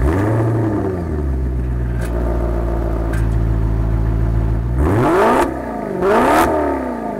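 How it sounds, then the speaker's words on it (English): A 2014 Maserati GranTurismo's 454-horsepower Ferrari V8 rumbles deeply at idle, then is blipped twice near the end, each rev rising sharply and falling back with a throaty growl. "The exhaust note on this car is just unbelievable."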